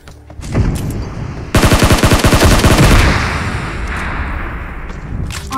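Rapid automatic gunfire in a mobile shooter game, a dense burst of rattling shots after a single opening crack, loud and close, fading into a lingering rumble with a few faint later pops.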